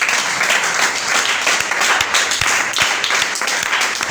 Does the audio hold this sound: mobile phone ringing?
no